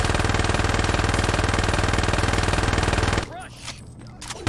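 Rapid automatic gunfire in the video game Saints Row 2 hammers away loudly and steadily for about three seconds, then cuts off, leaving quieter game sounds.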